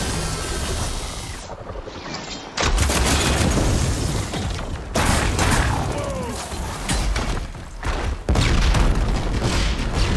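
A shotgun fires in Horizon Forbidden West, heavy booming shots cutting through loud, dense game action, with several sudden blasts spread across the scene.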